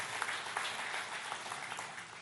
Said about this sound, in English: Can we have a round of applause for Baba Ramdev?